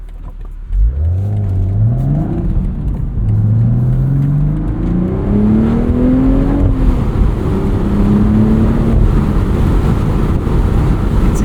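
A 2025 BMW Z4 M40i with a six-speed manual accelerating hard, its engine note climbing through a gear, dropping at a shift, then rising again, loud and close with wind rush behind it.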